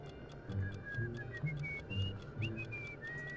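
Whistled melody from a character in the PS2 video game The Great Escape, thin sliding notes over a steady game soundtrack with rhythmic low pulses, moderately quiet and continuous.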